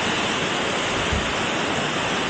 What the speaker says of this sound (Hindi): डायरेक्ट ऊपर से पानी आ रहा है